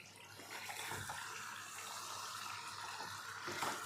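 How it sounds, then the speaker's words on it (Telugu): Chicken frying in a pan: a steady, even sizzling hiss that runs unbroken throughout, fairly soft and heard alone. "చికెన్ ఫ్రై చేస్తాను."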